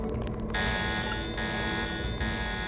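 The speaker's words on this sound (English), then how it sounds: "The alarm just closed the north door." A steady electronic alarm blares in the video game Deus Ex, a continuous buzzing, pulsing tone that holds at high volume throughout with no speech.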